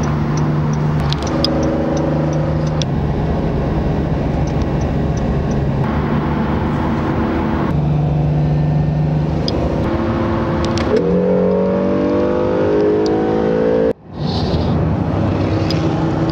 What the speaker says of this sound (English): shows some cool flybys, NSX and RS7